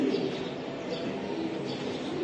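Racing pigeons kept by a breeder coo softly amid a dense, noisy background of bird sounds, with low murmuring coos and faint chirps continuing throughout.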